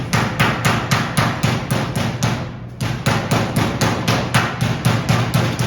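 Rapid, evenly spaced pounding of a mallet on chicken breast against a board, about a dozen sharp thumps, a brief pause, then steady pounding resumes.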